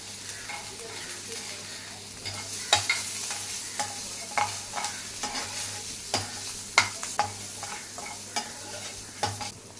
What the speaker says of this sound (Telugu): చివరగా కొత్తిమీర చల్లి మళ్ళీ ఒకసారి కలిపి